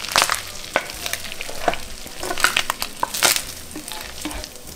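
Pasta carbonara with bacon is stirred in a large pot, a steady sizzling fry under repeated scraping and clattering strokes of the spoon, close and busy throughout.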